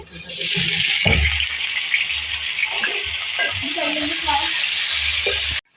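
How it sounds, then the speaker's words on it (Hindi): Eggplant pieces dropped into hot oil after potatoes, a loud sustained sizzle with scraping stirs and clinks that cuts off sharply at the end. "देखिए इसकी ऑयल में बैगन ऐड करेंगे।"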